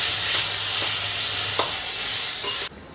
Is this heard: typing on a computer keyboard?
no